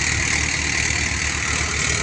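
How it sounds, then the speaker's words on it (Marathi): A household tractor engine idles on a farm during ploughing, a close, steady low rumble with an even throb that holds constant throughout, with no talking. "ट्रॅक्टर आपला घरचा ट्रॅक्टर आहे"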